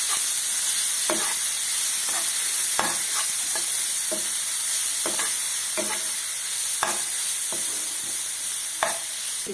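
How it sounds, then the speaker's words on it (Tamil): Chopped onions sautéing in hot oil give a loud, steady, close-up sizzle, broken by regular scraping strokes of a spoon stirring them about once a second. "அடுத்தது அரிஞ்சு வச்ச வெங்காயத்தில் இதை போட்டுடலாம். போட்டு இது நல்லா வதங்கட்டும்."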